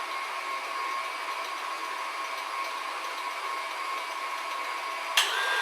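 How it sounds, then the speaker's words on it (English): An electric mixer runs steadily on a low speed while making homemade pizza dough, giving a constant close whirring hum with a brief click near the end. "So just put the mixer on a low setting"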